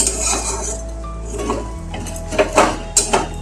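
A spoon stirs pointed gourd dorma in a pan, making clinks and scrapes of metal on metal that sharpen into a few distinct knocks toward the end over a low kitchen hum.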